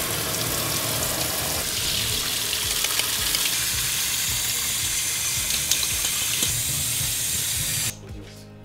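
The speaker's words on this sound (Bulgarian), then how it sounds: "Изплаквам с хладка вода." Lukewarm tap water pours steadily into a sink while cooked lentils are rinsed. The loud, continuous hiss and splash cuts off abruptly near the end, leaving quiet room tone.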